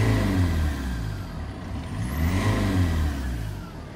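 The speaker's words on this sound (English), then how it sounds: "Listen to that turbo." A BMW X3 2.0 diesel engine revs close by, its turbo whooshing and whistling as the revs rise and fall in two swells over a heavy, pulsing engine rumble.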